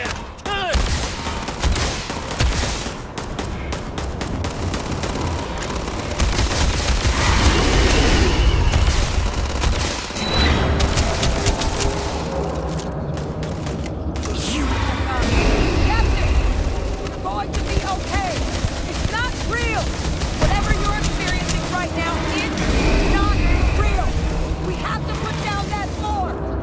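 Bursts of gunfire and heavy booms fill a sci-fi combat scene in Starfield, with rapid volleys and explosions layered over dense background action and occasional shouted voices throughout.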